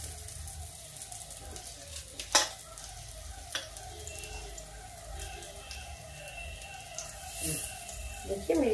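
Spinach pakoras frying in a shallow pan with little oil, a steady moderate sizzle with a few sharp utensil clicks and faint background voices.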